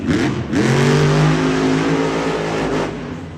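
Monster truck engine at a Monster Jam event in San Diego, a loud close roar that surges up in revs after a brief dip and holds high, then eases off.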